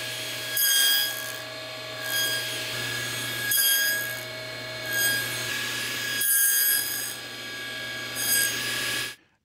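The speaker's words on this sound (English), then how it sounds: "I'm using just a single blade here, but the teeth on this one are flat on the top, so it's perfect for cutting 1/8 inch box joints." A single flat-topped saw blade cuts 1/8 inch box joints in wood, a steady loud whirring drone broken into four repeated passes, each ending in a brief dip before the next cut begins.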